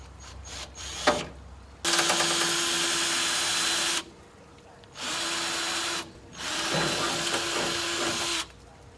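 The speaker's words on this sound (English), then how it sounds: "I'm gonna start with an 1/8 inch drill to drill me a pilot hole." A power drill with a 1/8 inch bit drills a pilot hole for a hood pin on an EF Honda Civic hatchback, whirring in two steady bursts of several seconds each, loud and close, with brief pauses and a few clicks between runs.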